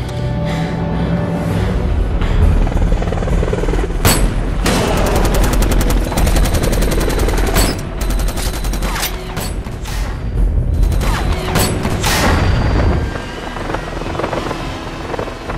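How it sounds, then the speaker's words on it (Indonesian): A helicopter in an action film sprays machine-gun fire, its loud rotor roar running under repeated bursts of automatic gunfire and sharp booms, with dense rapid shots at several points. "Sayangnya mereka terlebih dahulu dihujani oleh peluru helikopter itu."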